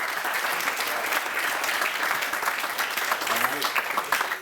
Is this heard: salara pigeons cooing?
no